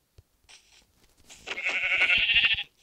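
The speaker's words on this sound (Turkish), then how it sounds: "Şurada da koyun var." A Minecraft sheep bleats loudly in a wavering, drawn-out call with a short quieter lead-in, clear and close with no talk.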